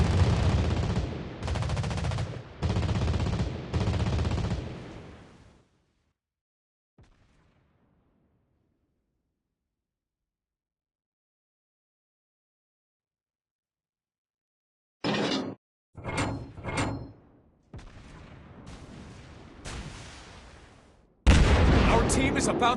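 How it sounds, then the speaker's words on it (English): Anti-aircraft guns firing in World of Warships Blitz on the IJN cruiser Yubari, loud rapid bursts of gunfire in two clusters separated by a long silent gap, with the later bursts denser and mixed with other battle noise. "Anti-aircraft gun on full alert."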